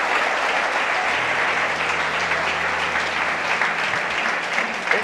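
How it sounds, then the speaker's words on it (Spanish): A church congregation applauding, a dense sustained wash of clapping that fills the room evenly from start to finish. "Denle un aplauso al Señor con todo el corazón."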